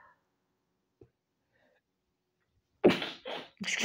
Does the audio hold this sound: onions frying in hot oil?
no